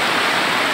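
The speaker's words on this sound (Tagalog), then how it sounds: "Agos dito guys sa Mayay River." Strong current of the Majayjay River in Laguna, a steady broadband rush of flowing water that holds an even level through a brief moment, with no voices.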